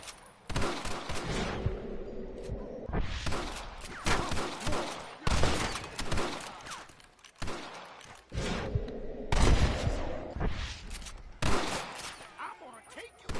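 Repeated gunshots aimed at snipers in windows during a Red Dead Redemption shootout, loud bursts in irregular clusters over more than ten seconds, with voices talking between them.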